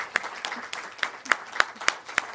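A small gathering at a poetry-and-birds reading event gives Rosemarie a sparse round of applause, a handful of distinct, sharp claps spaced irregularly over quiet room tone.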